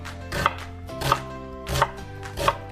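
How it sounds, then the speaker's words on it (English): A knife slices down through an onion on a cutting board with four firm, evenly spaced chops over a steady low hum, each stroke close and crisp. "And then turn your onion a 1/4 turn and make vertical slices down again."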